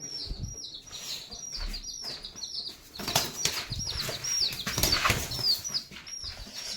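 Pigeons in a loft flap their wings in repeated bursts, loud and close, with chirps and cooing scattered throughout.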